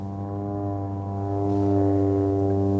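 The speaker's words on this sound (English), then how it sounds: "now, you may hear the plane behind me taking off." A seaplane's propeller engine drones steadily at a distance, a low humming tone that grows louder and more forceful partway through as it powers up for takeoff.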